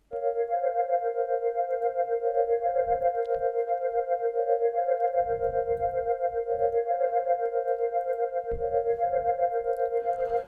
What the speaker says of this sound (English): the pad that I'm using is what normally people use in Amapiano